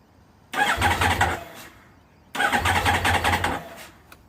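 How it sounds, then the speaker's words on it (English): A Honda VFR 1200 motorcycle engine cranking with the throttle held wide open after an oil change, in two separate bursts of rapid starter churning, each about a second long, close and loud, without catching. "I'm going to start the VFR on full throttle"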